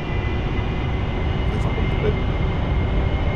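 An AV-8B Harrier's jet engine roars steadily in DCS World, a constant broadband drone with a high whine riding on top that holds level throughout, with a voice talking faintly beneath.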